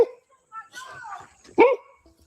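Dogs at a rural property bark in short bursts at moderate distance, with people talking over and between the barks.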